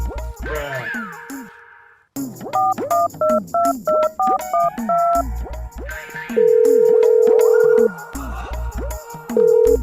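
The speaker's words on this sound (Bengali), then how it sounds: "নে ফোন কর" A mobile phone keypad beeps through a quick run of dialing tones, evenly spaced short electronic notes followed by longer steady tones, loud and close, with other sounds in between.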